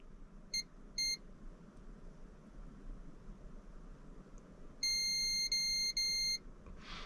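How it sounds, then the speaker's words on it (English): Short electronic beeps from a multimeter in continuity mode, testing e-bike motor wiring: two quick chirps early, then a longer steady tone broken into three segments, clear over a low background hum. "so we can hear that beeping"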